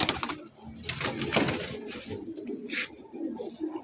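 A racing pigeon coos in several soft, throaty bursts, close and fairly quiet, with faint background rustle and no talk over it.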